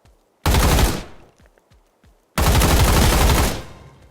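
Two long, loud bursts of rapid automatic gunfire from a Counter-Strike-style shooting game in Roblox, separated by a pause with a few faint clicks and thuds.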